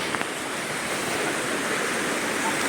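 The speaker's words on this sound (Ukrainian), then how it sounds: "Зараз зайду в море, покажу, яке море." Sea surf washes steadily onto a beach on Sunny Beach in August, a continuous broadband roar with no pause, heard close and fairly loud.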